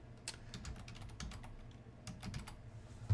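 A computer keyboard clicks as headline text is typed in quick bursts of soft, close keystrokes, with no voices.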